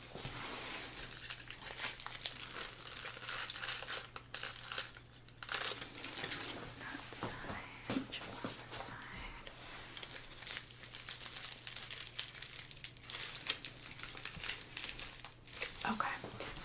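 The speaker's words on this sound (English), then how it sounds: "I'm gonna go ahead and check your foils" Close, soft crinkling of foil hair packets being opened and checked during a salon hair-colour appointment, continuous irregular rustles with a faint steady hum beneath.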